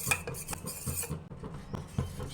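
A spoon stirs custard powder into raw milk in a pan, making quick repeated metallic scrapes and clinks against the pan's sides, close and fairly quiet.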